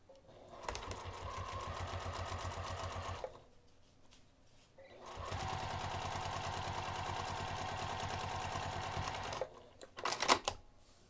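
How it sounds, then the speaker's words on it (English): A sewing machine stitches along the flap of a craft bag in two steady, rapid runs of close mechanical whirring, split by a short pause, followed by a few sharp clicks at the end. "I'm going to sew on top of the flap, 1/8 of an inch away from this pressed edge, from one end to the other"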